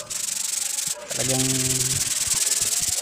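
Sandpaper rubbing by hand over the rusty body of a Barako motorcycle, a continuous rasping scrub close to the mic, with a brief humming tone partway through and one short spoken word.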